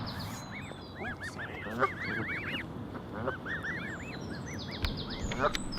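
Waterfowl by the water give repeated nasal honking calls, several birds overlapping in a busy chorus fairly close by, with low background noise throughout and no talking.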